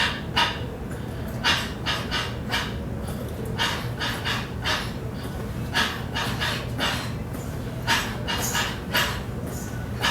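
A person breathing rhythmically to imitate a beating heart: repeated short sharp exhalations in uneven pairs and clusters, close and fairly loud, over a steady background hiss.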